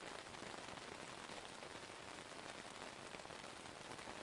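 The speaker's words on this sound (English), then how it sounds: "The rain continues, gently, steadily, as the night fully arrives around you." Steady gentle rain falls evenly and continuously, a soft dense hiss of drops on surfaces with no breaks, faint and uniform throughout.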